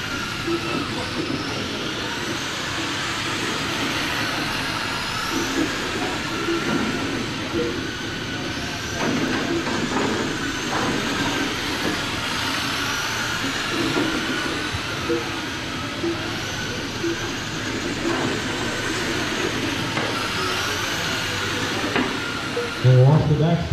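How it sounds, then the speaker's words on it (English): Traxxas Slash Super Stock RC race cars, five running in a tight bunch down the backstretch of a dirt oval speedway, make a steady, continuous high-pitched motor whine that stays loud and unbroken throughout, with a race announcer calling over it. "Backstretch the whole gaggle, all five cars in the bunch on the backstretch."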